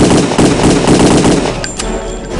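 Rapid machine gun bursts laying down suppressive fire in Return to Castle Wolfenstein, loud and continuous for a couple of seconds, with a sharp metallic clack near the end.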